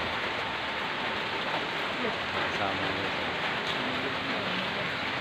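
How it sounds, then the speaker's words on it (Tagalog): Heavy rain pours steadily as a dense, constant hiss across the whole stretch, with a few brief voices speaking under it. "Lakas ng ulan."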